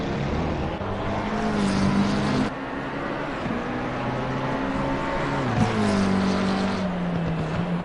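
A McLaren race car roars away, its engine note climbing through gears with a gear change midway, a loud, sustained high-revving whine heard steadily.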